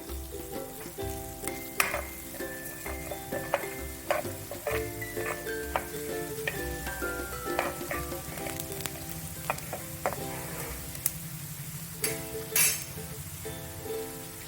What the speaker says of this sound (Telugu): ఇప్పుడు ధనియాలు జీలకర్ర వేయించుకుని